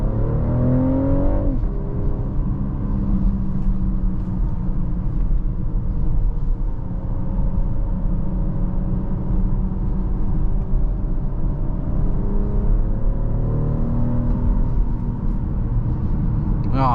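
2024 BMW X6 40i, a large SUV, accelerating on an open road: a steady, loud engine rumble and drone with rising and falling pitch sweeps as it pulls through gears, continuous from an interior vantage with no talking.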